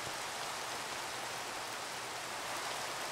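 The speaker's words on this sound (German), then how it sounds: "Das regnet und regnet und das mag ich überhaupt nicht." Steady rain falls in the video game Minecraft, an even, hissing wash of drops that runs unbroken and alone at a constant moderate level.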